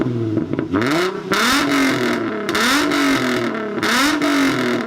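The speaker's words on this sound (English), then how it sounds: "and it is the exhaust." Infiniti G35 Coupe exhaust revving hard, three rising sweeps that climb and settle back, loud and close with a raspy, droning tone and no talking.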